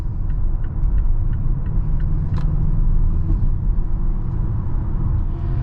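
A 2022 Mazda CX-5 cruising on a busy highway gives a steady, loud low rumble of engine and tyre-on-road noise that holds evenly from start to finish, with no talking.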